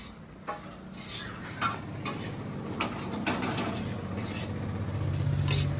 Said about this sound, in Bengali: নারকেল ভাজা হচ্ছে